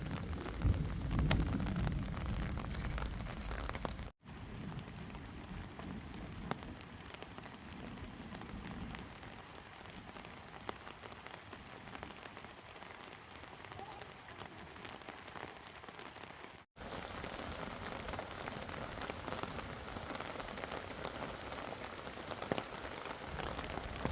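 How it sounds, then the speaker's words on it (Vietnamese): Steady rain patters on a bamboo tent in a dense, continuous hiss of close drops, with no voices, broken only by two brief gaps. "Trời mưa ông ơi."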